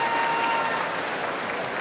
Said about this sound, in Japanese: お客さんの拍手が温かいでしょ